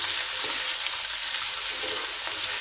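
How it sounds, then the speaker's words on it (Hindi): Two medium sliced onions frying in hot oil, a dense, steady sizzle heard close up and alone. "प्याज को हम लाइट ब्राउन करेंगे"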